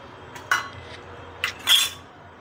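A metal chakli mould clinks and taps while its inside is oiled, three short, sharp metallic knocks close by, with the last one ringing a bit longer, over a quiet background.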